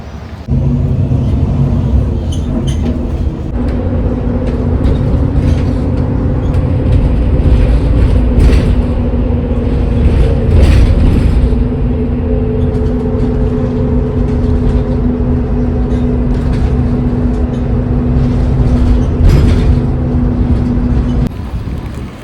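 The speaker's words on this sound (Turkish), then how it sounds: "Otobüs geldi" A city bus in Ankara idles close by at a stop, its engine holding a steady low rumble and hum for a long stretch with no talking.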